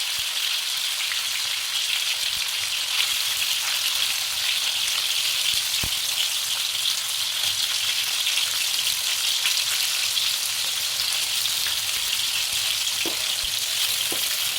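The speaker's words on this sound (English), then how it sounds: "the first thing she'll do is slightly brown her tofu pieces" Tofu pieces browning in hot oil in a wok, a steady broadband sizzle that holds evenly throughout with a few faint ticks and pops, close and alone with no talk.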